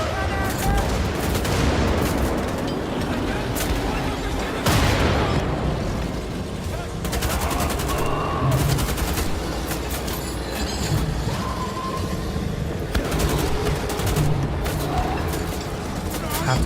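Rapid gunfire in the shooter game Wolfenstein: The Old Blood, loud bursts of automatic shots and impacts recurring throughout, with a person talking over the game sounds.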